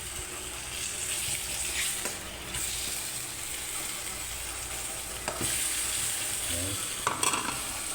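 Potatoes frying for adobong manok crackle and hiss steadily in a pan while a spoon stirs them, with occasional scraping clatters and a brief spoken word.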